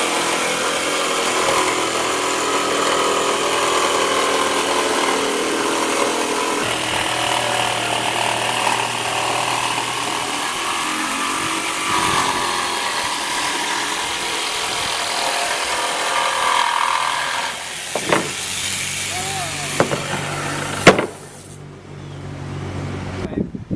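A router cuts through a wooden rocker former for a kiteboard, a loud sustained whining grind that shifts pitch as it feeds along, then ends with a few clunks and the motor spinning down.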